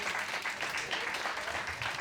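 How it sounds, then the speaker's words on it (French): Audience at a live stage show applauds continuously, a dense steady wash of clapping heard from within the room at moderate level, with no talk over it. "vous pouvez bien sûr les applaudir."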